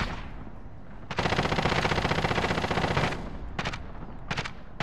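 Sustained burst of automatic gunfire in a multiplayer shooter video game, loud and close, running for about two seconds, then two shorter bursts with quieter gaps between them.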